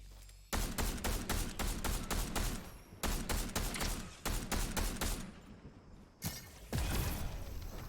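Rapid automatic gunfire in Fortnite Zero Build, loud and close, in long rattling bursts broken by brief pauses, followed by a couple of heavier single shots.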